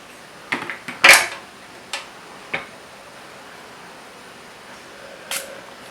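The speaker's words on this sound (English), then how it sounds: "So one spray is enough, I think." A few short, sharp spritzes of cleaning liquid from a small spray bottle onto a microfiber cloth, close by, separated by quiet handling clicks, with one last faint spray near the end.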